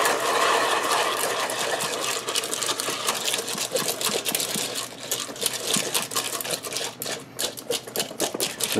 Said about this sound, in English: This thing pops every kernel too.